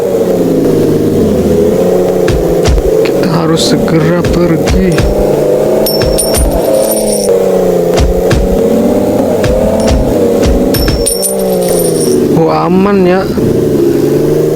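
A car engine revs and pulls away in a zombie-outbreak game movie, a loud, close drone that rises and falls in pitch with scattered clanks, while a voice talks over it.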